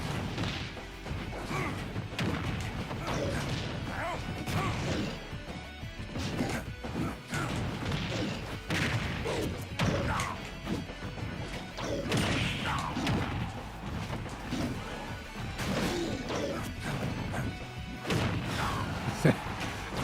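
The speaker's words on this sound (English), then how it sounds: "Fully charged F smash." Fully charged forward smash attacks landing in a Super Smash Bros match: repeated sharp crashing whacks and thuds spread through busy game noise, with people talking over it.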